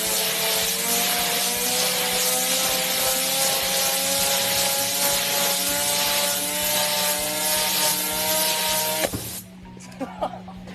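A powerful air jet roars steadily as it keeps an apple floating in midair, a loud broadband rush with a droning whine that cuts off abruptly near the end, leaving faint rustles.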